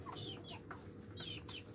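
A rooster lets out a few faint, short clucks, spaced in two little clusters over a steady low background hum.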